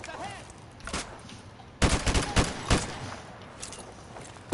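Bursts of MP5 submachine gun fire in Modern Warfare 2 Remastered, a short opening volley followed by a louder stretch of rapid, close automatic shots with scattered impacts and no talking.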